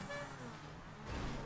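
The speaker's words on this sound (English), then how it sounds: "Oh, my horn." A car horn blares in GTA V Online, a sustained tone of about a second and a half over traffic and engine noise in the game.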